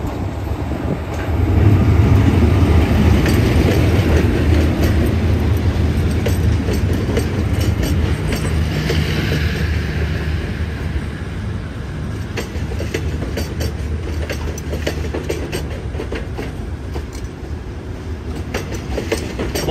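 Express train No. 31 Thaksinarat rolling into Hat Yai Junction station, a loud steady rumble with clickety-clack of wheels over rail joints and a low engine drone that eases slightly as it slows.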